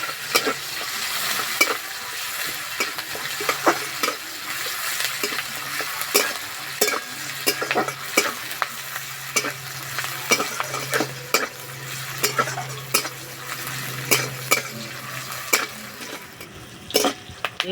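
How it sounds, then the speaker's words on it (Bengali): Sliced onions fry in hot oil with five-spice seeds and bay leaf, a steady close sizzle broken by frequent sharp scrapes and clinks of a spatula stirring the pan, with no voices. "এই তেলে দেবো পাঁচ ফোড়ন তেজপাতা কোচানো পেঁয়াজ পেঁয়াজ হালকা লাল করে ভেজে নেব"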